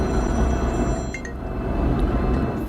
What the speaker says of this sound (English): Phone started ringing.